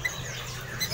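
An ekekling bird at a bird market gives a couple of brief, high chirps at the start and end over a constant low hum of market background, faint and quick.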